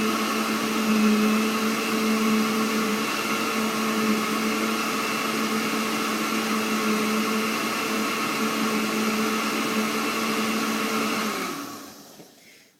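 A countertop blender whirs loudly and steadily while blending a green smoothie with blueberries, a continuous motor whine that runs for about eleven seconds before spinning down and stopping.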